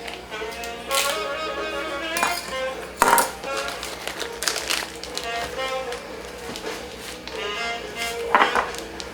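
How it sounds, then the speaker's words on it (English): A knife slices through the end of an apple with a few crisp cutting and tapping sounds against a board, amid kitchen handling noises while a person talks. "I'm just going to cut off one end of this."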